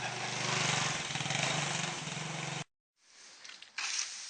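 A motorbike engine driving rice processing on a farm drones loud and steady at close range, then cuts off abruptly, leaving brief quiet followed by softer rattling and a short renewed burst.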